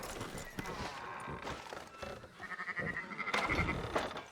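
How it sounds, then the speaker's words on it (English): Sheep bleating in the video game Red Dead Redemption 2 on a ranch, a few short wavering bleats amid soft hoof clops and quiet ambient game sound, faint overall with a voice briefly heard. "Fine sheep."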